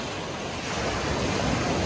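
Steady wash of ocean waves on a Maui beach, a broad continuous roar of surf that swells slightly louder partway through, with some wind noise and no talking.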